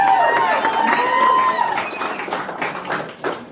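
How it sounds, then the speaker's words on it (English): Audience applause after a keynote pitch at an event, a dense spread of clapping that stays fairly steady and loud before gradually thinning toward the end, with some tonal whistles or voices mixed in early. "Give them another round of applause"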